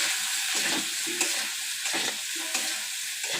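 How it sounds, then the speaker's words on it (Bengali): Mixed vegetables frying together in a small amount of oil, a steady loud sizzle with rhythmic stirring scrapes at close range, no voices. "তেল দিয়ে সব একসঙ্গে ভেজে নিচ্ছি"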